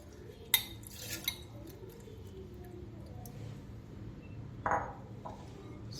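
Soaked rice and flattened rice go into a mixer jar in a home kitchen, giving a few sharp clinks and soft scrapes against a quiet background.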